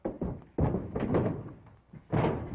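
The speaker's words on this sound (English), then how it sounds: "Break that door down and let them have it." Heavy wooden door in a 1938 western being battered down, with several loud thuds and slams at irregular intervals, close and forceful.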